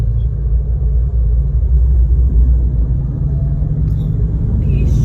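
Ford Mustang GT350 on a race track, its engine a steady deep rumble as it accelerates up the banking, loud and close throughout with no break.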